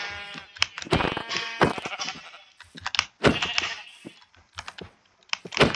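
Sheep bleating in Minecraft, a few short nasal bleats mixed with clicking keyboard typing and game sounds, close and fairly loud, with no speech.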